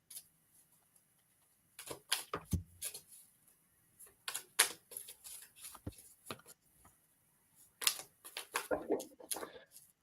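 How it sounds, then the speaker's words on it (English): Tarot cards shuffled by hand make soft, quiet clusters of quick papery clicks and flicks, arriving in irregular bursts with short pauses between them. "I'm shuffling for Jackie."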